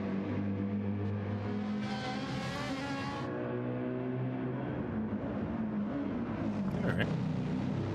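A race car engine in Gran Turismo 7 on PS5 Pro during online qualifying, singing at high revs with a steady harmonic whine that climbs and shifts through gear changes, loud and continuous with a voice talking over it.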